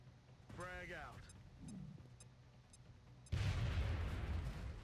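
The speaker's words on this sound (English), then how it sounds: "So I think you chunk this grenade" A frag grenade goes off in the video game XCOM: Enemy Within as one sudden, loud, broad blast with a rumbling tail, after a quieter stretch with a short tonal game cue.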